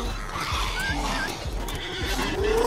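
A horse neighs and whinnies in the SCUM video game during an animal brawl, with a couple of short whinny calls over a busy, rumbling background of game noise.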